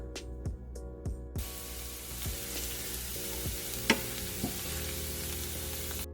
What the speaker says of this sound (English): we can add in our minced garlic. Okay, we're going to saute this until golden brown